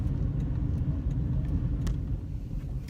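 Inside a moving car, a steady low engine and road rumble drones throughout, with faint light ticks above it and no one speaking.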